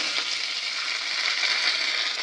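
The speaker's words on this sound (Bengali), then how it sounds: "আর দিয়ে দিলাম কারি পাতা" Curry leaves crackling in hot oil in a pan alongside a dried red chilli and mustard seeds, an even, bright sizzle that holds steady and close throughout.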